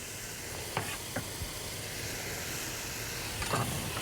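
Steady, broad hiss of garlic sizzling in a skillet with sausage, heard close up, with a few faint utensil clicks and stirring scrapes over the constant frying sound.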